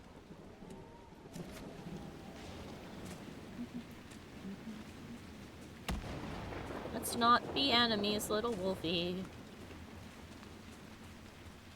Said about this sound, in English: Every time the lightning hits the ground, I'm like, oh no